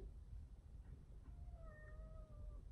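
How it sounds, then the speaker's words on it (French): A cat gives a short, clear meow against a low background hum, fairly faint and heard alone. "Il a dit bonjour en chat."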